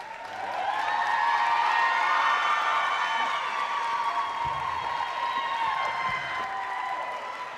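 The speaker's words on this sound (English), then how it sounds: "please cheer on your top 10" Audience at a Mississippi Miss Hospitality pageant final, 75th anniversary, cheering and applauding for the top 10 finalists, with a loud sustained crowd roar and clapping throughout.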